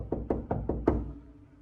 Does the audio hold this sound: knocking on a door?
yes